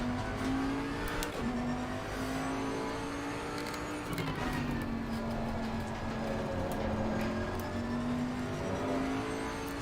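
Race car engines drone in the racing game Assetto Corsa Competizione at Zandvoort, a steady mid-pitched engine note shifting through gears as a Porsche runs close by, fairly quiet and continuous.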